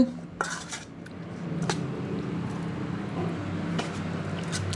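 A spicy Thai liver salad is tossed with a utensil, with a few metallic clinks of the utensil on the dish over a low steady background hum, close by, no talk.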